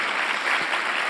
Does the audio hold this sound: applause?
yes